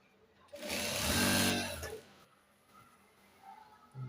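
Sewing machine stitching a child's pajama: one close, loud whirring run of roughly one and a half seconds that stops abruptly, followed by quiet handling sounds.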